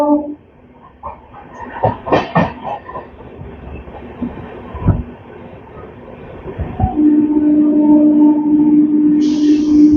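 The Chennai–Hazrat Nizamuddin Duronto superfast express runs over winding tracks near Chennai, heard from on board. Irregular knocks and rattling clatter give way to a loud, steady rumble with a sustained tonal hum toward the end.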